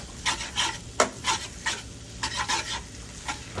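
Pad Thai noodles are stir-fried in a hot pan. Repeated bursts of spatula scraping and tossing sit over a low, constant sizzle.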